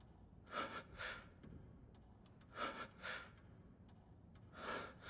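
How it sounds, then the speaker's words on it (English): Heavy breathing in Resident Evil 8, faint and close, coming in paired breaths with quiet gaps between them, three clusters spread across the stretch. "Oh, it's just breathing."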